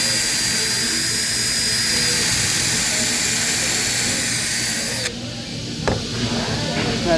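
A power drill runs continuously at high speed with a whining tone while boring a countersink hole in window trim, then cuts off sharply near the end, leaving a quieter background with a brief knock.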